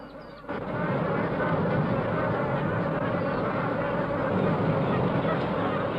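Flock of geese honking continuously in a swamp, a dense, steady chorus of overlapping calls that stays loud and close throughout.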